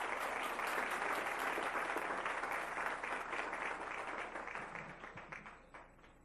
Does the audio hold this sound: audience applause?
yes